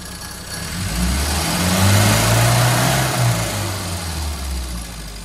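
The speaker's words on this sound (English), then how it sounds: "Engine's running at the moment, and I've got the dwell meter on." A classic Mini engine idles steadily during ignition tuning, close and loud, with a low rumbling hum whose pitch rises slightly and swells in the middle before settling back to an even idle.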